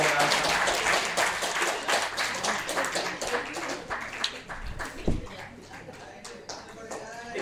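Audience applause at a lifetime membership ceremony, dense rapid clapping from a crowd that starts full and gradually thins and softens, with a voice briefly heard over it near the end.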